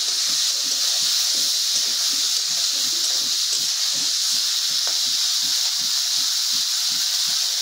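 Chopped onions with turmeric powder sizzle in a pan, giving a steady hiss over a regular rhythm of soft, repeated stirring strokes, close and even throughout.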